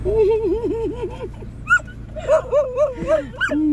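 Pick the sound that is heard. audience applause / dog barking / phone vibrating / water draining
dog barking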